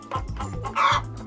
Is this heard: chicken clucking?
yes